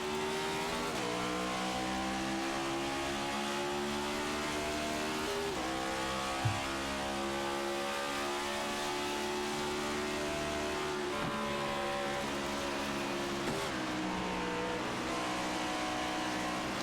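Onboard at the start of an ARCS Darkside Mustangs A2 Cup race at the California 200, the car's engine drones loudly and continuously, pitch climbing and dropping through repeated gear changes, with other race engines mixed in.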